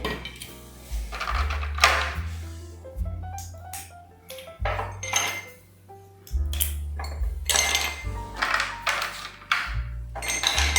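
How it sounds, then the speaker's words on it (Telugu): Several hard clinks and pings as ice cubes drop into a glass, scattered across the stretch over low tonal music. "ఇందులో ఐస్ ముక్కలు వేసుకుని"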